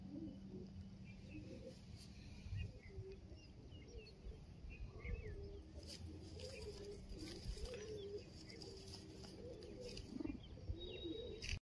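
Soft, repeated pigeon coos rise and fall in a low register over steady outdoor background noise, with a few faint chirps and occasional wing sounds.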